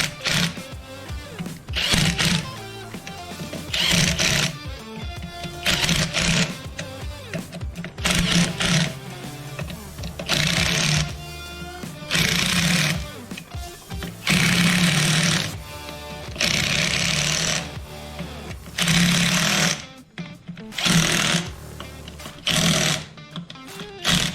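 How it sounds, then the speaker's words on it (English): Impact gun running in bolts on a variable pressure plate during a motorcycle clutch install, firing in repeated loud rattling bursts of a second or two, separated by short pauses. "I'm going to take my gun, and I'm only going to run them in with the gun."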